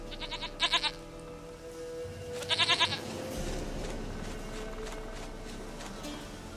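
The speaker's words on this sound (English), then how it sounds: "sweetest goat." A goat in The Witcher video game bleats twice in short, wavering, stuttered calls, loud and close, then an ambient background hum carries on without further calls.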